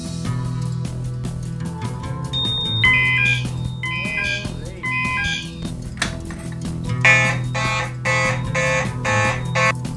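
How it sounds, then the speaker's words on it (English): A Simplex 4001 fire alarm control panel under system test sounds electronic alarm tones and buzzes in bursts, with rapid pulsing beeps toward the end over a steady low hum, loud and close. "it's time for the first system test with the Simplex 4001 Fire Alarm Control Panel."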